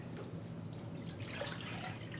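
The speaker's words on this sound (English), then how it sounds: "you're going to pour in milk" Milk poured into a large bowl in a kitchen, a steady close liquid trickle and dribble running without pause for a couple of seconds, no voices over it.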